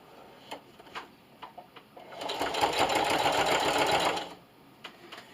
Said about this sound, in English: then I'm going to sew all the way around my lanyard, back stitching at the end